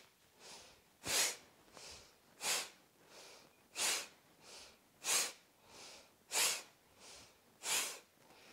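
Steady, deliberate breaths during a fertility-focused yoga therapy routine, about seven strong nasal inhales alternating with softer exhales in an even rhythm, close and otherwise quiet.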